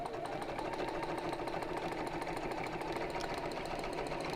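A sewing machine stitching fabric along a drawn line runs steadily at a fast, even rhythm, close and continuous with no breaks, a quiet background hum underneath.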